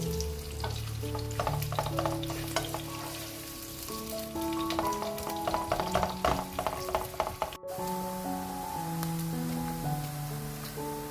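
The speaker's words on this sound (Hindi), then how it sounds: "अब हम वही प्याज को ब्राउन करेंगे, फ्राई करना शुरू कर देंगे" Onions fry in hot oil until browned, a constant crackling sizzle with spoon stirs and occasional clinks while music plays in the background.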